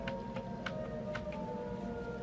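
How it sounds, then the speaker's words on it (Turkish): Siren Head's wail in a horror video game set in a garden at 3 a.m.: a steady, droning siren tone held for a couple of seconds over low rumble, with a few faint pulsing bursts on top. "Bu arada yine ses geliyor. Siren sesi."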